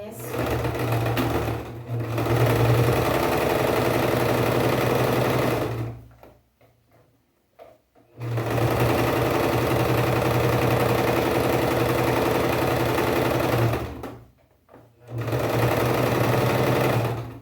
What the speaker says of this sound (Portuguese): Vamos fazer outra costurinha curva.